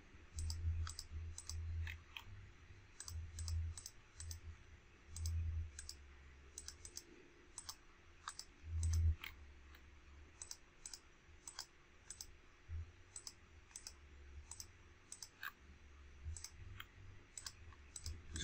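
A long series of close, sharp computer mouse clicks while selecting items on screen, mostly in quick pairs with short pauses between them, alone in a quiet room with a low background hum.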